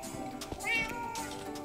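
A cat in the Minecraft video game meows once, a clear rising-and-falling mew over faint background game sounds.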